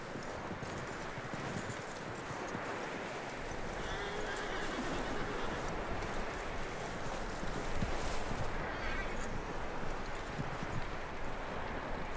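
Horse neighing and whinnying with clip-clopping hooves in Red Dead Redemption 2, a steady, fairly loud stretch with a skittish horse close by and ambient rustle underneath.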